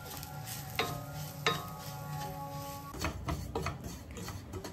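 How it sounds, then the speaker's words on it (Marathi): Semolina roasts in ghee in a pan over low heat, with a steady soft sizzle and a few sharp scrapes and taps as it is stirred, close and fairly quiet. "मंद आचेवर हा आपल्याला रवा मस्त भाजून घ्यायचा आहे ना"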